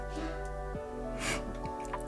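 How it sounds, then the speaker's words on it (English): A dog gives a short, sharp nasal snort, close and sudden, with a few softer breathy sounds around it over a steady background hum. "That was my dog"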